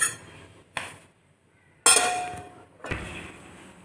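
A lid is set on a bowl in a few separate hard clinks and knocks, crisp and close, with short ringing decays and quiet gaps between them.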